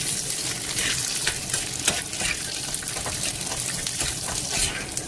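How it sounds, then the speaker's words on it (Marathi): Peanuts fry in hot oil in a pan, giving a steady crackling sizzle with scattered pops and stirring scrapes, moderately loud and close, with no talk. "इथे बघा छान शेंगदाणे सुद्धा फ्राय होऊ लागलेत"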